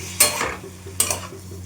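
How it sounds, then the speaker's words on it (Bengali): Spice paste and vegetables stirred in a pan make two brief scraping, sizzling bursts of a spatula against the pan, close by, over a low background hum. "চলো এবার ধীরে ধীরে নাড়তে থাকি"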